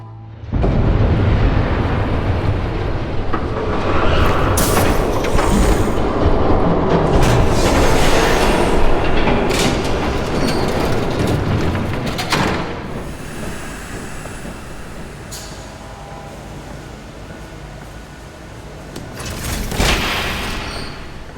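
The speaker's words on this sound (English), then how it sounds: "There's a train coming." A train rumbles past in a Batman Telltale game scene, a loud, continuous roar with rattling and heavy booming bursts that swells early, stays dense for about twelve seconds, then eases into a lower rumble before one last surge.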